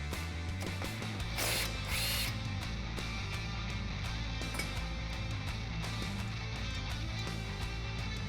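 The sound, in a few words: removing brake line bracket on Jeep Wrangler lower control arm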